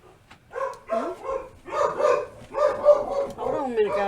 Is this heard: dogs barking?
yes